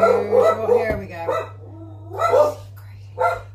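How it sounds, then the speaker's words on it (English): Several dogs bark in bursts somewhere in the house, loud and fairly close over a steady low hum, with pauses between the volleys. "And the dogs are barking in the background, as usual."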